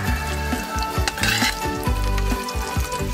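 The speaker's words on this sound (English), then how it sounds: "So we're gonna saute the garlic and onion." Garlic and onion sauté in a caldero, the traditional Filipino cooking pot, with a loud, dense sizzle and bubbling plus scattered clinks and scrapes, no voices.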